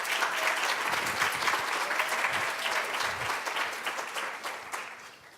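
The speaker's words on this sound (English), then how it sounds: "I'd like you guys to give me a round of applause to Whole Child Leon for hosting this today" An audience at a Boystown talk hosted by Whole Child Leon gives a sustained round of dense, steady applause that begins to taper off near the end.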